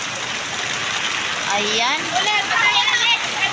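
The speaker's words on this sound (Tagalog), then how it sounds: "ang lakas po ng ulan" Heavy rain pours steadily during Typhoon Kristine in flooded Malabon, a continuous broadband wash of water throughout, with someone talking and children's voices rising over it in the latter half.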